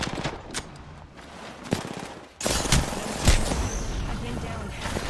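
Apex Legends gunfire as rapid automatic bursts, thinner and more distant at first, then louder and denser halfway through with heavy, close shots and a few impacts.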